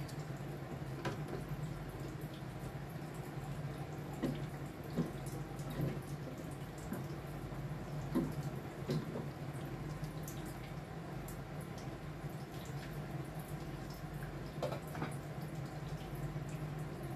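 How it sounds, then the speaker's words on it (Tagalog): Heated water poured into a pot of fish soup with moringa leaves, a soft ongoing trickle and drip with a low steady hum underneath and small splashy ticks scattered throughout. "Nagdagan natin tubig ininit."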